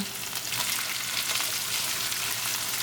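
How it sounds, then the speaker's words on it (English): Chopped onion frying over a high flame after mustard seed, ginger and garlic, a dense steady sizzle that stays loud and even throughout, with no voices. "Cooking our onion on a high flame for 4 minutes."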